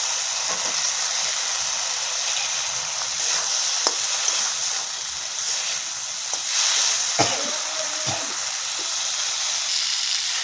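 Fried potatoes being stirred into cooked masala for soybean curry, a continuous pan sizzle with a few spoon scrapes and clinks, close and steady, with no voices.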